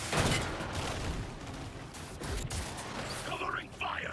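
Rapid gunfire from the video game Suicide Squad: Kill the Justice League, a steady, fairly loud barrage of shots layered with game effects and faint voices throughout.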